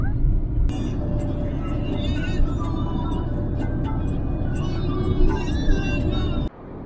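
Traffic on the Rajkot–Ahmedabad highway in monsoon, heard from inside a moving car as a dense steady road roar with passing vehicles and faint voices, ending in a sudden drop.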